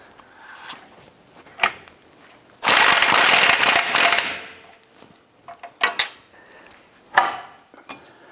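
A ratchet wrench tightens the rear bolt of the front lower control arm on a 2008-2013 Nissan Rogue, giving a loud, close burst of rapid clicking followed by shorter clicking bursts and separate metallic clinks, with no talking.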